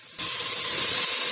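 Onion dropped into hot oil bursts into a loud, near sizzle that swells after a brief quiet start and then holds as a dense, even hiss, with no voices.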